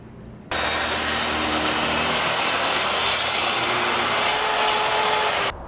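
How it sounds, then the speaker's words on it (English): A power saw trims a broken strip of chipped veneer from the fiberboard base of a mid-century Lane dresser, one steady loud cut running about five seconds and then stopping. "So I decided to take it off and trim that broken piece"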